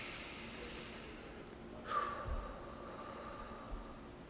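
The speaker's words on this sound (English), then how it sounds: "take a moment to pause and take a deep breath" A single slow, deep breath drawn in and let out, faint and close in a quiet room, with a soft airy rush in the middle and no talking.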